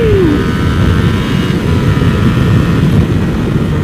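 A custom Ducati Monster 1200 motorcycle revs loudly and steadily nearby, its engine note holding a continuous throaty roar with a brief rising whine at the start.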